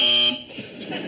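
A harsh electronic quiz show buzzer sounds briefly at the start, then stops as a voice begins speaking.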